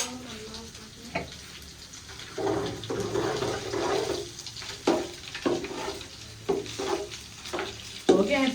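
Browned onions sizzle in a pan while a utensil scrapes and stirs them in repeated sharp strokes, close up in a village kitchen, with faint background voices.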